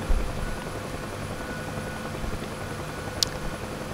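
Simulated UH-1H Huey helicopter engine in the DCS flight game, a steady droning turbine hum throughout with a single brief click near the end, no voices.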